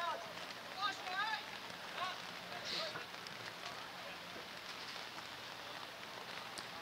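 Heavy rain falls during a high school boys' varsity soccer match, a constant faint hiss of drops across the whole stretch with scattered distant shouts over it.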